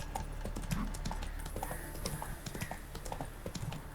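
Horse hooves clip-clopping in a steady rhythm while riding through The Witcher 3 video game at sunset, close and continuous over a low background hum of game sound.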